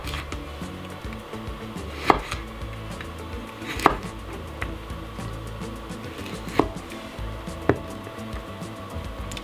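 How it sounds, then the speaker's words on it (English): Carrots cut into julienne with a knife on a board, spaced sharp chops about every two seconds over a continuous background hum. "I'm gonna cut a julienne on the carrots"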